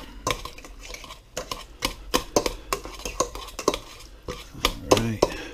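Ripe avocado being mashed for guacamole in a bowl, with a string of sharp, irregular clinks and soft squelching thuds close up as the utensil strikes the bowl, roughly a dozen impacts spread over several seconds.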